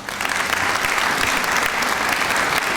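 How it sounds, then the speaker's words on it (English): Steady, dense applause from a meeting audience fills the whole stretch, loud and continuous with no voices over it. "Ladies and gentlemen, a round of applause"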